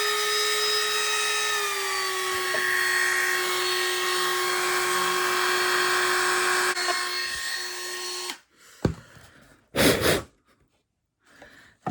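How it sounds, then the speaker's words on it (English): A drill fitted with a small 2 mm carbide burr clears out a slot in a composite glider control surface, giving a steady, close high-pitched whine for about eight seconds before stopping, followed by a few brief handling knocks. "I use a little 1/16 or a 2mm carbide burr, and that works quite well for clearing out the rest of the slot of the hole."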